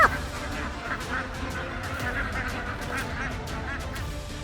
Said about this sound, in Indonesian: ini dia yang namanya itik alabio, teman. Unggas endemiknya Kalimantan Selatan.